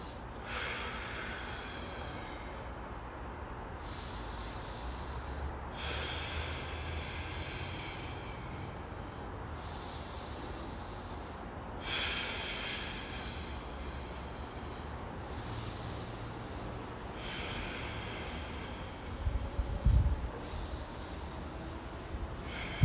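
Slow, deep breathing comes from someone holding a seated yoga twist, with long airy inhales and exhales repeating in a steady rhythm every few seconds over a constant low background hum.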